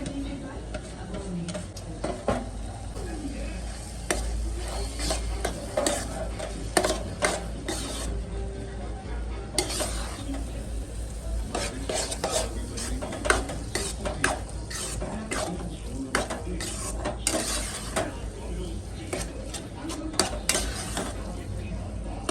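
Paneer bhurji is stirred and scraped in a metal pan with a utensil, making repeated quick clinks and scrapes over a steady background hum.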